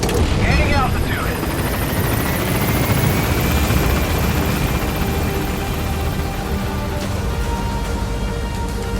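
A helicopter climbs in Metal Gear Solid V: The Phantom Pain, with a loud, continuous rotor thump and engine roar that stays close, while a radio-style voice speaks over it.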